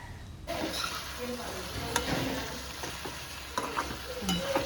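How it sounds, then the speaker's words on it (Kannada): Food fries in a pan with a soft sizzle while a utensil scrapes and stirs it in irregular strokes, close and moderately loud, with faint background noise. "ಇವಾಗ ಫ್ರೈ ಮಾಡ್ಕೋಬೇಕು ಚೆನ್ನಾಗಿ"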